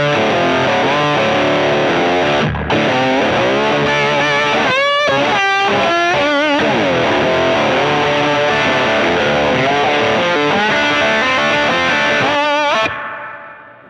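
Heavily distorted electric guitar through a Two Notes Torpedo Captor X load box, playing chords and riffs, loud and continuous, with a brief break early on and an abrupt cutoff near the end.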